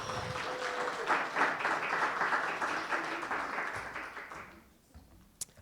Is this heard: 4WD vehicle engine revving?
no